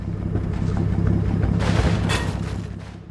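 In the Combat Mission war game, a Russian light machine gun fires on an assault gun. Bursts of gunfire and booms crack over a low, rumbling engine drone, loudest around the middle.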